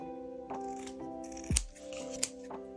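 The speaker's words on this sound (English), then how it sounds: "Go ahead and cut the 4 corners." Sharp scissors snip several times through fabric while the corners of a sewn tote bag are cut, giving a few crisp close cuts with short pauses between them.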